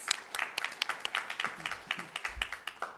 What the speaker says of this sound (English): we'd like to give a round of applause to the Spooner Research Award winners